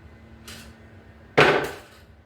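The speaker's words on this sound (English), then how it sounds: "Let me just round those tools up." Hand tools gathered up during a body connector swap clink together in two quick bursts, a brief light rattle followed by a sharper, louder metallic clatter close by.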